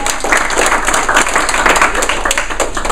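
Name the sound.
audience applause for presenters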